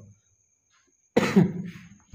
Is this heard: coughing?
yes